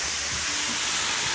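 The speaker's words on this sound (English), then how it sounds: "we're going to give these burgers a bit of a sort of steam now" Burgers with peanut butter steaming on a hot cooking surface give off a loud, continuous hiss that stays broad and even throughout, with no talking.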